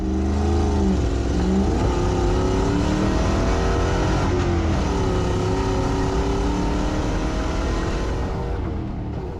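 A rally car engine revs hard and steadily, loud and close throughout, with rising and falling pitch sweeps and no talk.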